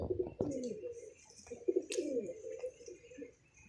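A pigeon perched nearby gives soft, repeated throaty coos in two close phrases over a quiet background.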